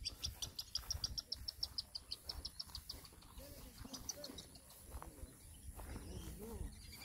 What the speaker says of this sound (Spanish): ahí está otro pajarito bonito